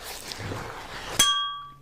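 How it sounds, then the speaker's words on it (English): A small tuning fork is struck once with a bright metallic ding, then rings on with clear sustained tones that slowly fade, preceded by quiet soft rustling. "So I'm just going to tune up this little fork"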